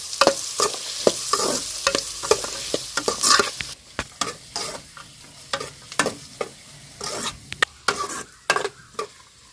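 Onions fry in a pan and are stirred vigorously for an onion and bitter gourd dish, with a steady sizzle under repeated scraping and clacking strokes of the spoon against the pan, close and fairly loud.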